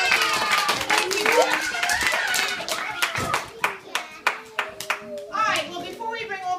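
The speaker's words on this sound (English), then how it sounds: "Let's clap for the birthday boy, Jacob." At a child's sixth birthday party with parrots, people clap for the birthday boy. The scattered claps come under a voice and other chatter, then thin out to a few separate claps near the end.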